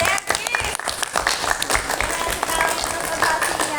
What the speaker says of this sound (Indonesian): Oke, tepuk tangan buat Derki.